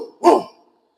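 A single short, loud bark imitated by a human voice, standing alone with a quick fade, as a storyteller mimics a house dog that starts barking.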